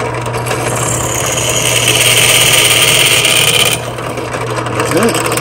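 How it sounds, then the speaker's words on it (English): A power drill bores out holes with a drill bit, a loud steady grinding whir with an underlying motor hum, close up, easing briefly near the end before resuming. "Just drill these holes out."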